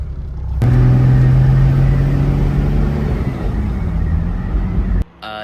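Toyota Land Cruiser with an HZ diesel engine driving on a test drive, a loud steady low engine drone and road rumble running continuously for several seconds before cutting off abruptly near the end.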